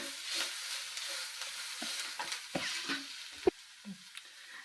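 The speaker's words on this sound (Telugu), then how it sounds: "ఇప్పుడు కొద్దిగా ఉప్పు వేసుకుని కలుపుకుందాము." Rice with a little added salt being stirred in a pan, giving soft intermittent scraping and light sizzling strokes with a few sharper clicks, close and fairly quiet, with no talking.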